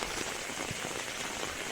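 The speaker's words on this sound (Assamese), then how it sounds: "আপোনাৰ বৰষুণ এৰাই নাই" Steady rain falls on an open road in Assam, a soft, even patter of drops close by with no talking.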